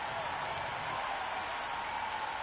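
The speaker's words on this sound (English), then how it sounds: "The crowd are making a heck of a lot of noise even before the first ball's been bowled." Cricket 26 video game crowd in the stadium before the first ball of an England vs Scotland T20 World Cup match: a steady, dense roar of cheering and clapping throughout, with no pauses.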